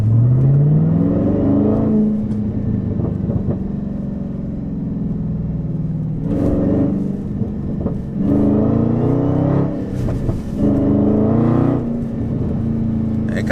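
A Dodge Hellcat with an H-pipe and muffler delete accelerates, its deep engine note rising through several revving pulls with pops and drops between them, loud and close.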